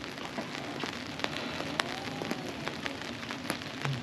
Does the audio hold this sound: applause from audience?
no